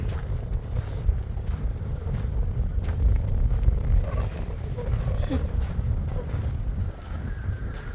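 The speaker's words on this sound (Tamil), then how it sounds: "பயங்கர காத்தடிக்குது எப்படி சவுண்டு கேட்குதுன்னு தெரியல" Strong wind blowing at Pink Lake in Oman: a loud, steady roar of gusts buffets the microphone throughout, with a voice speaking faintly beneath it.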